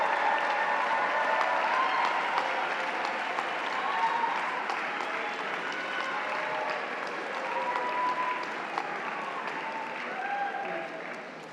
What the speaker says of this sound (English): take a moment to applaud your families and loved ones who helped support you